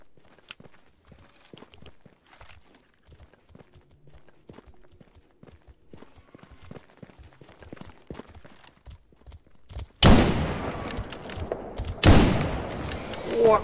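Full-auto APS pistol fire in the game S.T.A.L.K.E.R. Gamma: after ten seconds of quiet footsteps and faint movement, two loud, dense bursts of rapid shots erupt near the end.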